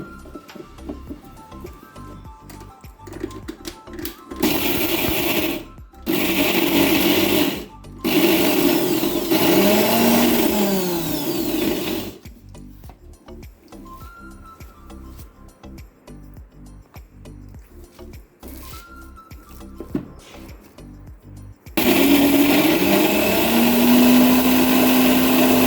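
An electric mixer grinder grinds green chilies for paruppu urundai kuzhambu in short, loud motor bursts. It whirs for a few seconds, stops, then whirs again, with quiet kitchen noise between runs and a final longer burst.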